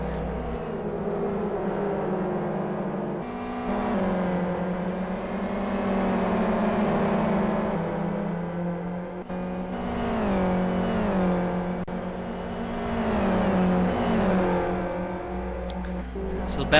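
Touring race cars in the 2009 iCON Touring Car Championship drive on track toward a chicane with engines droning and revving, under steady race commentary throughout.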